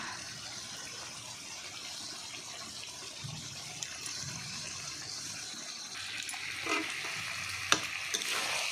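Chicken being sautéed in a pan gives a steady sizzle and hiss, with occasional soft scraping and stirring knocks that grow busier toward the end.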